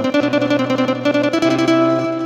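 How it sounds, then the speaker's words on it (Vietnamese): A keyboard set to a nylon-string guitar voice plays a close, steady plucked accompaniment pattern of bright repeated notes for a song. "Đầu tiên đó là tiếng guitar nylon."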